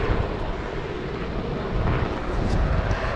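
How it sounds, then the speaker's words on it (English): A helicopter flies over Portland Harbour, heard as a steady, rumbling broadband engine roar at moderate distance with some wind buffeting, no voices. "there's the helicopter going off again."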